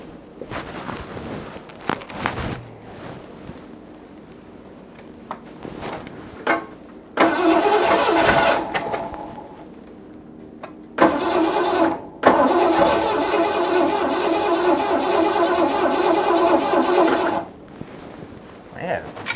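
A 1986 Ford F-150 truck engine cranks with short bursts, catches and runs loudly, cuts out, then restarts and idles roughly before stopping, nearby with some talk in between.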